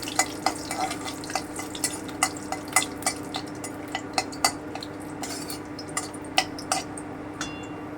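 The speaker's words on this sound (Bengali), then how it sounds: "এবারে আমি তেজপাতা শুকনো লঙ্কাটা দিয়ে দিচ্ছি আমি হালকা করে একটু ভেজে নিচ্ছি" Bay leaves and dried red chillies frying in hot oil for an egg korma, with a low continuous sizzle under repeated sharp clinks of a utensil against the pan.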